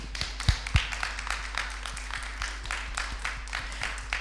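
A small audience at a panel discussion at a market event claps for the panelists, light and scattered hand claps with a few louder close taps over a steady low hum.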